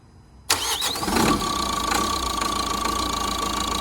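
A 2014 Vauxhall Vivaro 1.6 CDTI diesel van, sold as spares or repair, cranks and fires abruptly, then settles into a close, steady, slightly uneven idle with a whining tone running on over it.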